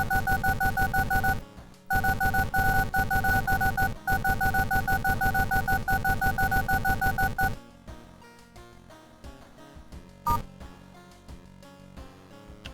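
Rapid phone keypad dialing tones in a creepypasta-style horror video game, a steady run of loud, evenly spaced beeps with brief gaps, then stopping abruptly, followed by quieter game ambience and one short tone.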